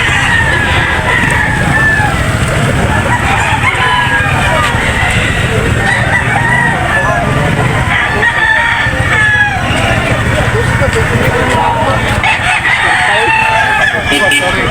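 A dense chorus of clucking chickens with a rooster crowing now and then at a Saturday morning poultry market in Lipa, Batangas, continuous and close, with some distant chatter.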